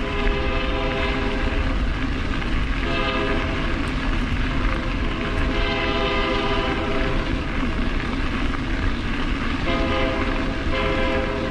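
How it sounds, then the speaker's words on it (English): A train rolls past on a rail line near a canal bike trail, a loud, continuous rumble and clatter of wheels on track with a drawn-out horn blast sounding through it. "I get my my wish to see the train passing by."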